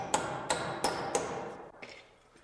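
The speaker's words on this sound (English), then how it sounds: "I'm going to temporarily tack this in place" A hammer drives nails to tack a cut wooden stair carriage in place against a hanger board: four sharp, evenly spaced ringing blows at close range, then a couple of softer knocks fading out.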